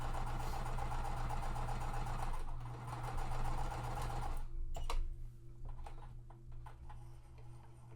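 Sewing machine stitching quilt fabric with a small needle runs in a steady, fast mechanical chatter for about four and a half seconds, then stops, leaving quieter ticks and handling noises.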